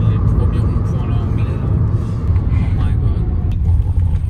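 A car rolls off a ferry onto the road on a trip through Scotland, its engine and tyres giving a steady, close, low rumble throughout from inside the cabin.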